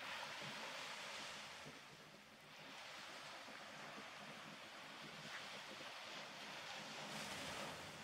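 Ocean waves washing onto a shore, a continuous broad rushing surf with gentle swells and a slight dip midway, steady and fairly close with no voices.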